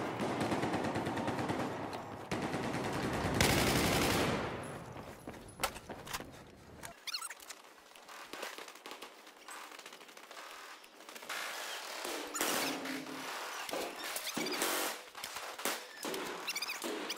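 Enemy machine gun fire in Battlefield 4, loud rapid bursts of automatic shots followed by scattered clattering gunfire and mechanical rattles, some bursts closer and others more distant.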